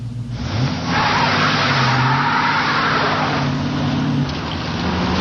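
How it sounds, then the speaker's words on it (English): A car roars past during a police pursuit on a road, a loud, steady broadband engine and tire rush close by with shifting engine tones, no talking. "the car came by, matching the description of the suspect vehicle"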